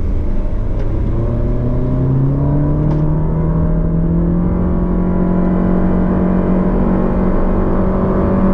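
Small four-cylinder engine of a 2019 Toyota Vios heard from inside while driving, a steady close drone that rises gradually in pitch as the car gains speed, with continuous road and tyre noise and no talking.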